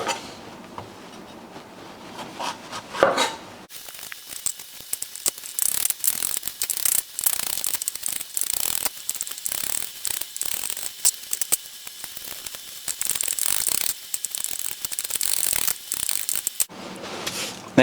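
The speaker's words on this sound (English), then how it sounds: "let's start by chopping our bell peppers" Knife chopping bell peppers on a cutting board, a rapid run of crisp, close taps and crunches that carries on steadily for most of the stretch, with quieter handling before and after.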